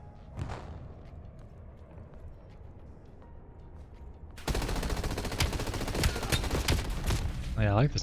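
Rapid automatic gunfire from a hybrid SMG and assault rifle called the Peacekeeper in a video game starts abruptly halfway through, loud and sustained, after a quieter stretch of ambient game sound.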